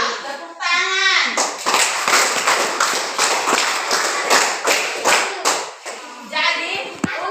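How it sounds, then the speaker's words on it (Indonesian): Classroom full of children clapping together for about five seconds in a lively, uneven burst, bracketed by a voice speaking before and after. "Ya, tepuk tangan."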